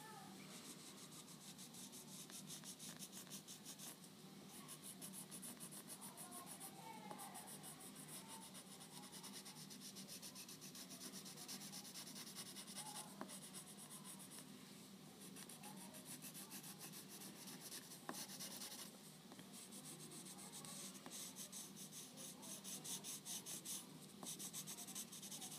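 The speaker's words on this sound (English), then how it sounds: "you're going to be using a yellow colored pencil to get nice and close and a clean line around that moon" A yellow colored pencil blends around a drawn moon on paper, giving a steady, soft scratchy rubbing close up that runs continuously with small strokes throughout, no voices.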